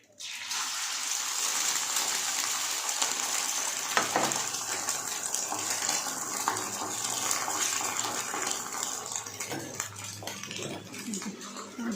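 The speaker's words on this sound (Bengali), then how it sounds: "ডিমটা ভাজবো, ওই হচ্ছে ডিম ভাজছি" An egg fries in a pan, giving a dense continuous sizzle and crackle from start to finish, close and fairly loud, with a brief clink partway through and no clear talking.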